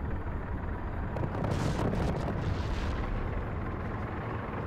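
Weapon fire and explosions in the mech combat game MechWarrior Living Legends, a steady dense rumble of booming blasts with a louder surge in the middle, no voices.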